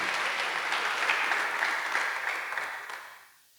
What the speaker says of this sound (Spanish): Damos más aplausos a nuestro Dios.